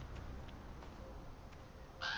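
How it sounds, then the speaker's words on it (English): A crow caws in the Norwegian setting of the video game Draugen: a short, harsh call bursts out near the end after a stretch of faint, low ambient rumble. "That's a crow, dude."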